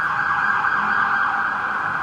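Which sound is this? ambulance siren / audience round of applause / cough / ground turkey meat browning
ambulance siren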